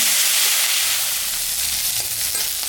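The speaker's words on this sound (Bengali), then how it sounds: "আলু বেগুনটা ভাজা ভাজা হয়ে গেছে" Potato and eggplant fry in a pan with a close, steady sizzle and bubbling hiss that holds at an even, loud level throughout, with no voices over it.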